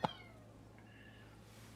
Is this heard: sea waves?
no